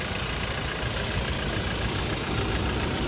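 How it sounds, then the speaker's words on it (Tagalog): Steady, dense engine rumble of a pickup truck idling nearby, constant and fairly loud with no variation or talking. "Ganda ng timing ng makina."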